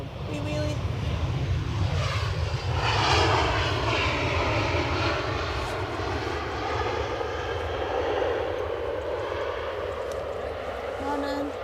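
An EasyJet airliner lands at Edinburgh Airport, its loud, steady engine roar holding close throughout with a sweeping whine, while people chat over it.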